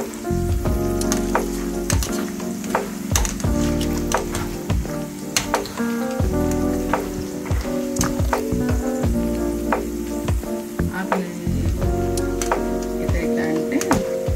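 Curry leaves crackle and sizzle steadily as they fry crisp in hot oil for peanut pakodi, a dense, continuous spitting sizzle with sharp pops scattered throughout, close and loud, with no talking.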